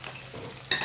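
A spoon stirs red chili, turmeric, asafoetida, coriander-cumin, garam masala and salt into a pan mixture, giving a soft scraping swirl that ends in a brighter, sharper scrape, close and without talk.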